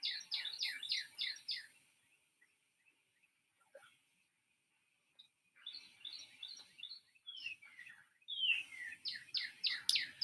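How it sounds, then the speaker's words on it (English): Birds chirp and trill outdoors in quick repeated bursts, with a quiet pause in the middle before the song returns and grows louder toward the end. "Do you guys hear these birds behind me?"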